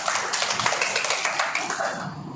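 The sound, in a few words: audience applause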